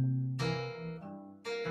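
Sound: guitar fingerpicking swung eighth notes

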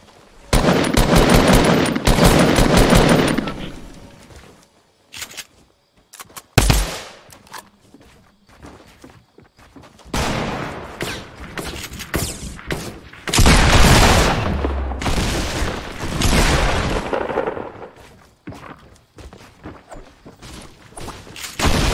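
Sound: gunfire in a video game

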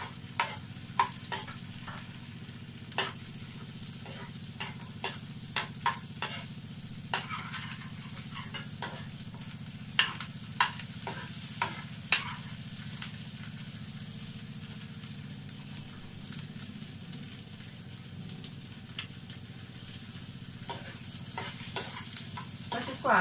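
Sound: ginger and green chili roasting in a pan for paneer butter masala

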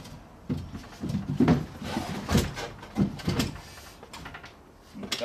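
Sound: drawer of a 100-year-old trunk sliding

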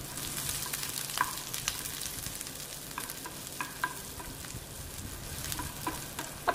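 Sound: sautéing shallots, ginger and garlic in a pan

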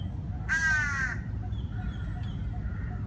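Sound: crows cawing

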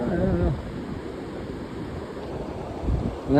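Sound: sea waves and wind at the beach

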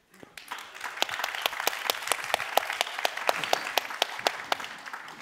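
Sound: applause

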